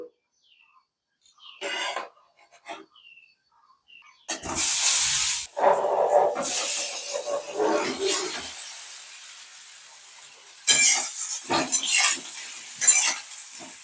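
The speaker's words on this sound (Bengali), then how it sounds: "পিস পিস করা ডাল বাটাটা আমি খুব সুন্দর করে ভেজে নেব দিয়ে দিচ্ছি কড়ায় সর্ষের তেল" Pieces of fried lentil paste for dhokar dalna drop into hot mustard oil in a wok, setting off a loud, steady hiss and sizzle after a few quiet clicks and knocks, with bursts of spattering continuing throughout.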